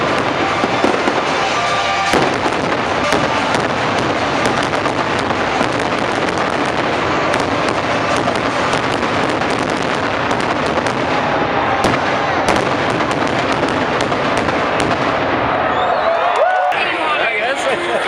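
Fireworks show with dense, continuous bursts, crackles and booms filling the air, loud and close, while a crowd and nearby voices talk underneath.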